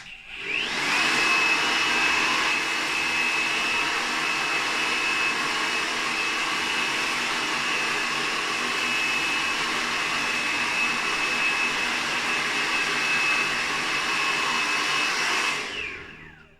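A hair dryer blow-drying hair runs steadily for about fifteen seconds, a loud, even airy rush with a thin high whine, starting up and cutting off at the ends.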